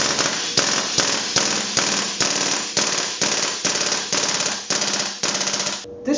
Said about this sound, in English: This gun shoots really fine and smooth on single and really fast on full auto.